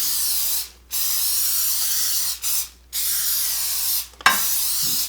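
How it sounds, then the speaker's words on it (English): Three long bursts of cooking spray hiss into a glass dish, each a few seconds, broken by short pauses, ending with a faint clink of glass. "I'm going to spray the glass dish before I put any food in it"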